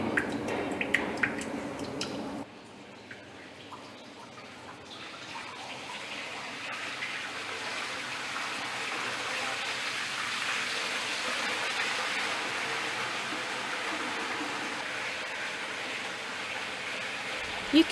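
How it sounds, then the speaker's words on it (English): Water released through a gradually opened valve runs over a V-notch weir in an agricultural flow-measurement setup, a steady broadband rushing that starts abruptly after a brief noisy opening and holds level, close and continuous. "We are going to open the valve bit by bit to run water."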